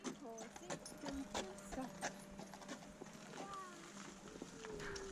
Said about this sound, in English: this section of the canal still has horse-drawn boats that take tourists up and down.